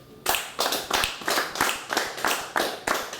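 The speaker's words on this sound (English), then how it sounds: "So clap me a bar of quavers." Hand claps in a steady, even pulse of about ten sharp, close claps over three seconds, a bar of quavers counted at a workshop, with no talk.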